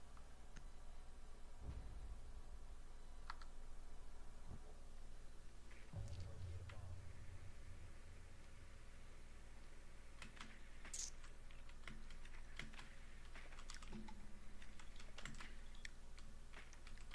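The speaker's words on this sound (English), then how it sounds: "Oh, he's typing." Keyboard typing in a Rainbow Six Siege match, heard as faint, scattered key clicks under a steady game hum with brief louder bursts, coming in sparse groups rather than a continuous run.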